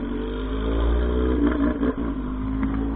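A Honda Hornet motorcycle with a modified aftermarket exhaust revs loud and close, a deep rumbling engine surging and dropping over a few seconds with no talking.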